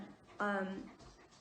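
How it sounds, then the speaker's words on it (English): A dog gives a short, high whining whimper lasting under half a second, with faint panting around it, fairly quiet and close. "Sorry about the dog in the video."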